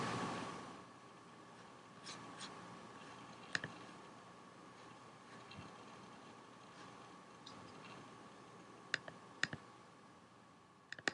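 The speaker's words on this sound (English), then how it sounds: "Let's try clicking there." Computer mouse clicking while working in a web page, with a few sparse, sharp clicks over a quiet room hum, close and faint.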